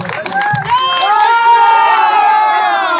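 A large crowd at a Ram Navami puja rally in Shantipur, Mecheda, cheers and whoops loudly in a sustained roar, with shrill voices rising over the mass of noise.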